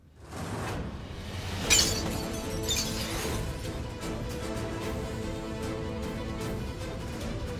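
A sudden loud crash of clattering kitchenware, with a sharp shattering burst, then a steady rattling noise lingering afterward.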